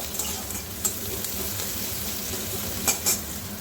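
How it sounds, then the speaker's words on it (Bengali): Onion frying in a pan for a drumstick-leaf dish, a steady crackling sizzle with a few louder scraping stirs near the end, close and without talk. "পেঁয়াজটা একটু হালকা লাল করে আমি ভেজে নেবো"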